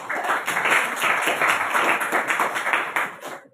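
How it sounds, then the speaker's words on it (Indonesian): Classroom of students clapping in applause, a dense, steady burst of many hands at close range lasting a few seconds before stopping abruptly. "Ya, kasih aplaus."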